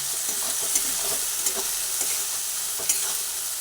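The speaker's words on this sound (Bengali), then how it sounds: "মশলা ভালোভাবে নাড়াচাড়া করতে করতে ভেজে নিলাম" Spice masala with Kashmiri chilli powder frying in a pan, a soft hiss with a spatula scraping and clicking against the pan in an uneven rhythm, close up, no talking.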